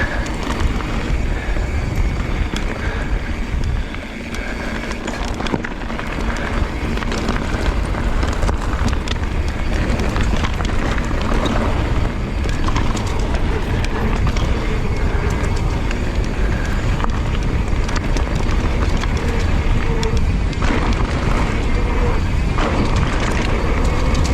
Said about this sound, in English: Definitely got some wind in here.